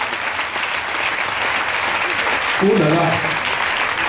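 A church congregation applauding the Lord, a dense, steady wash of clapping that fills the whole moment, with a voice briefly exclaiming over it near the end.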